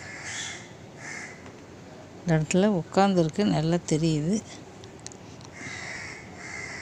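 A crow caws in several loud, close, harsh calls in a quick burst, with someone talking softly before and after.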